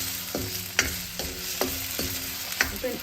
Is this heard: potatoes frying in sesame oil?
yes